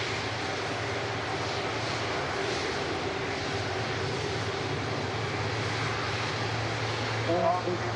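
A Virgin Atlantic airliner departs Manchester Airport for Orlando, its engines producing a steady, sustained roar at moderate distance throughout.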